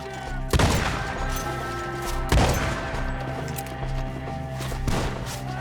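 Gunfire in a shootout in Red Dead Redemption 2, a few loud, sharp gunshot cracks spaced apart over a steady game soundscape, with a voice shouting in between.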